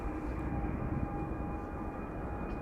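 An EasyJet Airbus A319 airliner at Schiphol Airport drones with a faint, distant, steady engine roar and thin sustained whine tones.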